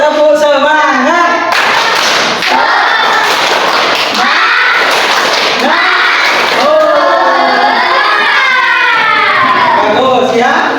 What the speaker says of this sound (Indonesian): kita tepuk tangan dulu ya. Tepuk apa anak-anak? Ya yuk, tepuk semangat.